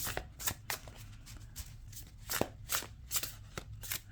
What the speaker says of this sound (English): your hand over hand shuffle